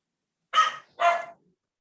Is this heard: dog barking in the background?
yes